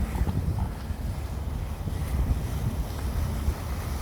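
Wind buffets the microphone on a motorcycle ride, a constant loud, low rumbling roar with no letup and no voices.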